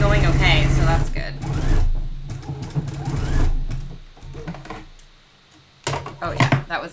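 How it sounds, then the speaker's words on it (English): Sewing machine stitching black pleather swimsuit fabric, a close, steady mechanical whir in bursts that stop and restart, with a voice talking over it. "I was worried I might have to switch to a Teflon presser foot for this black pleather, but looks like it's going okay"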